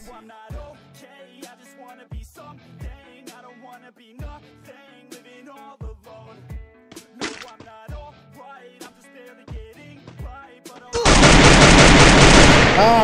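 Rapid bursts of gunfire in the shooting game Free Fire, crisp repeated shots in short clusters and single cracks, ending in a loud sustained blast of noise.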